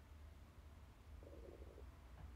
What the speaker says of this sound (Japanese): お腹が鳴ってますね